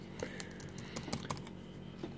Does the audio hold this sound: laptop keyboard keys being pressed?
yes